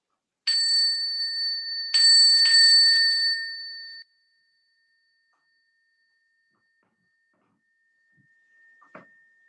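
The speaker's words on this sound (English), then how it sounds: "And the bell will take us out." A meditation bell closing a Buddhist sitting is struck twice, each ring a clear, pure metallic tone that lingers and fades into near silence, followed by a faint soft rustle.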